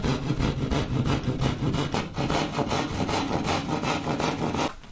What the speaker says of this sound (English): I'm gonna be using my saw to saw through both these sides